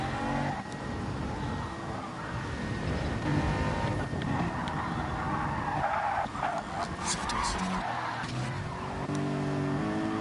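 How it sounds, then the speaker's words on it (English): Race car skids after losing control during a WTCC-style touring car race at Grand Valley in a racing video game, with tires sliding and engine noise loud and continuous throughout, a commentator's voice faintly underneath. "Also Sutters lost the car here."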